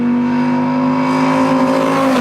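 A Gen 2 Dodge Viper V10 with a custom exhaust revs hard and close, its loud, throaty tone climbing and then dropping off at the end of a short burst.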